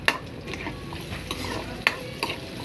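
Onion frying and stirred in a pan for pork hock paksiw: a steady close sizzle with a few sharp scrapes of the utensil against the pan, no talking.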